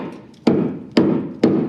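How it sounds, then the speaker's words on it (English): Three sharp hammer blows strike a piece of wood near screws to knock it loose, evenly spaced about half a second apart, loud and close with no talking. "sometimes when you take a hammer and you hit it"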